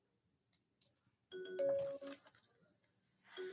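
A ringtone chimes for an incoming call on a school radio-style assembly, a short melodic electronic tone that is fairly quiet, with soft clicks and faint background noise around it.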